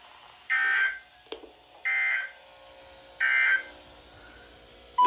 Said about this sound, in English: the National Weather Service has just activated the public warning alarm tone in the test